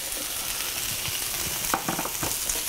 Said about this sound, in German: Ich habe jetzt nochmal ein bisschen Öl nochmal dazu gegeben, weil wir ansonsten die Möhren nicht angebraten bekommen.